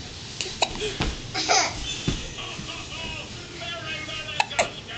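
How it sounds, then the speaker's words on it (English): A young child hiccups several times in sharp little bursts that come among babbling baby sounds and soft chatter, with the louder spikes spread unevenly across the stretch. "somebody else has a hiccup"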